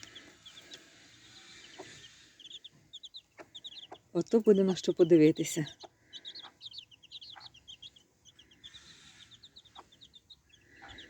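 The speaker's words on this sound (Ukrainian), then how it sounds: "Вони замашні кури." Chickens, including a broody mother hen, cluck and chatter in short rhythmic bursts nearby, with a louder squawking flurry in the middle and a person speaking briefly.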